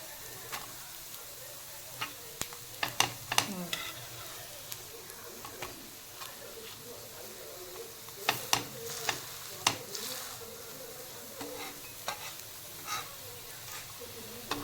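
Coriander vadas shallow-fry in a pan over low heat, with a soft, continuous sizzle broken by scattered clicks and taps as a spatula presses and flips them.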